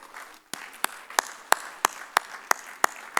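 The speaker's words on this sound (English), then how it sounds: "please give a big round of applause to CA Komal" A small audience at an ICAI tax session claps for speaker CA Komal with sparse, evenly spaced single hand claps, about nine distinct sharp claps ringing out over quiet room tone.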